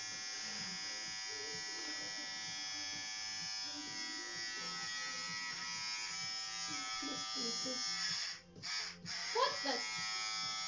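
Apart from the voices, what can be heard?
cheap electric shaver shaving a head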